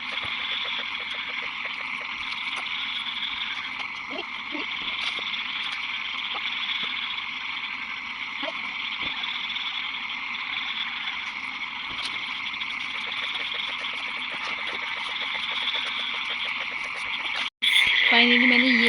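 Dense chorus of frogs croaking steadily at night near a courtyard, a continuous layered rattle with many overlapping calls close by, ending in a brief cut and louder burst.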